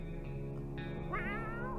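A cat in the video game 60 Seconds gives a drawn-out, wavering meow, clear and close over a steady electronic game drone.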